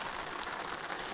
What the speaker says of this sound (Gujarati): ટપ ટપ ટપ ટપ ટપ ટપ વરસાદ છાંટા પડે